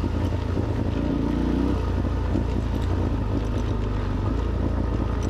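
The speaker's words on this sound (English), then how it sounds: "The bloody exhaust is way too poppy and loud for me though." A motorcycle with a loud, poppy exhaust rolls downhill with a steady engine drone, close and continuous, with faint crackles throughout and no talking.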